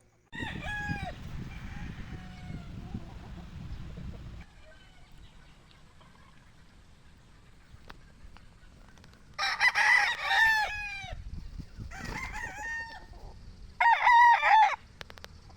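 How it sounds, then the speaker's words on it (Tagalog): Tethered gamefowl stags in a cording area on a game farm crow in two loud, nearby bursts, the first longer and the second shorter, after a stretch of quieter low rumbling and faint clucks. "Natatapang na nga din ang mga nakatali naming stag dito sa cording area"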